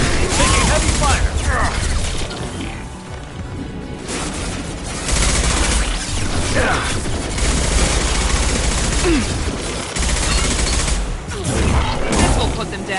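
Sustained bursts of automatic gunfire and rapid volleys from a firefight in Mass Effect 2 (Legendary Edition), loud and close, with booms and mechanical clatter between pulses and voices talking over the combat.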